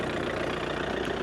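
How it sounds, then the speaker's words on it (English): Small Coyote 4710 tractor engine idling, a steady, close, even mechanical hum with a faint rhythmic pulse, heard alone without speech. "our little tractor, the 4710, Coyote 4710, I prefer to use to move the totes around"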